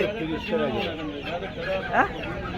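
Chickens cluck and murmur close by while people talk over them at a busy, noisy chicken market in Uluberia.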